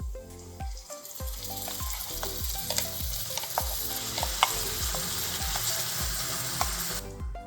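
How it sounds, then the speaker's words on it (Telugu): Spinach paste hitting a pan of frying onion masala, a steady close sizzle with repeated scraping stir strokes, ticking clinks and bursts of bubbling, continuing without any talk. "ఇప్పుడు ముందుగా మనం పేస్ట్ చేసి పెట్టుకున్న పాలకూర వేసేసుకుందాం."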